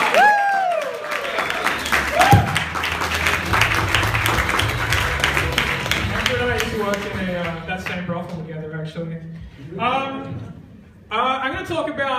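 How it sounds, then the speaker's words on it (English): Audience applause at a stand-up comedy night, loud dense clapping from a crowd that gradually thins out, with a voice starting to talk over it toward the end. "let's start the round of applause for Patrick Marlborough!"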